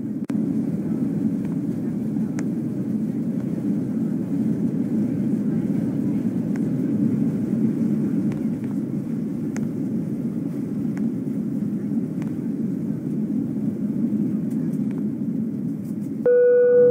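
An airliner's engines drone steadily and loudly during descent in Roblox Cabin Crew Simulator, a continuous low rumble that ends with a brief electronic chime.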